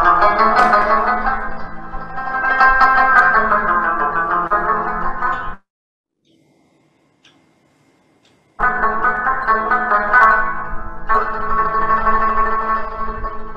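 Rabab, an old Afghan plucked string instrument, played in a bright twangy melody with a few seconds of silence between two phrases.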